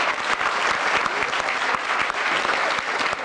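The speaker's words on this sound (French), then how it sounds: "on vous applaudit bien fort, madame Lacman" Dense, steady audience applause in a theatre setting, a continuous wash of many hands clapping at even loudness without any voices standing out.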